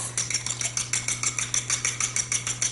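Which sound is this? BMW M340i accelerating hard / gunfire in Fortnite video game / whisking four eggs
whisking four eggs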